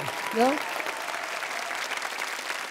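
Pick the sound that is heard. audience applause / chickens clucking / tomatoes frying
audience applause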